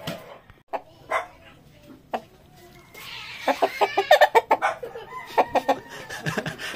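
Chickens cluck and cackle in a rapid burst, mixed with sharp dog barks earlier, all fairly close outdoors.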